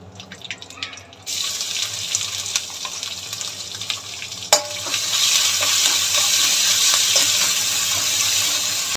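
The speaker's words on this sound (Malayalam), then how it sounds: "വെളുത്തുള്ളിയൊക്കെ ഇച്ചിരി മുരിഞ്ഞ് വന്നിട്ടുണ്ട്" Garlic cloves with a little ginger frying in oil in a pan, a steady loud sizzle that swells and stays strong after a soft clink, with stirring and utensil scrapes and no talk.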